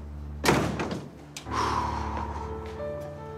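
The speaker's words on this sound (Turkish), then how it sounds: "Kapat kapıyı." An indoor door shuts with a single fairly loud thud near the start, followed by a softer knock and low room rumble, with no talking.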